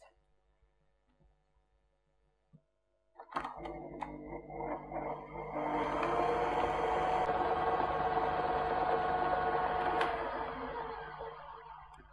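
An electric mixer beats vanilla butter cream frosting in a bowl, starting abruptly after a quiet stretch and settling into a steady whirring hum that grows louder and fuller midway through.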